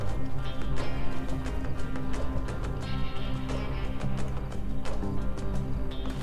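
Hooves clip-clop in a fast, steady gallop from a horse in the Western video game Red Dead Online, loud and continuous over a dense background with no clear talk.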